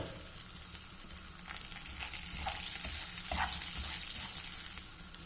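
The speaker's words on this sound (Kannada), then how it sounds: "ಈಗ ಇದನ್ನು ಸ್ವಲ್ಪ ಚೆನ್ನಾಗಿ ಫ್ರೈ ಮಾಡ್ಕೊಳ್ಳೋಣ. ಉದ್ದಿನಬೇಳೆ ಕಡಲೆಬೇಳೆ ಚೆನ್ನಾಗಿ ಕ್ರಿಸ್ಪಿಯಾಗಲಿ." Urad dal and chana dal crisp up in hot oil with a pinch of asafoetida, a soft continuous sizzle with light stirring scrapes that swells slightly toward the middle.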